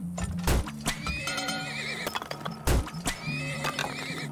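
Horse in the oil-drilling game Turmoil giving repeated whinnies with clip-clopping hooves, loud sharp neighs at intervals over a busy background of game effects, no speech.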